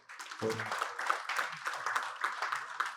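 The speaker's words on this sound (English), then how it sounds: "A round of applause." Applause from the audience at an annual lecture on tax reforms, a scattered patter of clapping that swells and thins over a few seconds, with a brief voice near the start.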